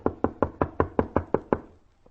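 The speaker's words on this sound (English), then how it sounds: "Knock again." A series of nine evenly spaced knocks on a door, close and fairly loud, steady rhythm then stopping, with no voices over it.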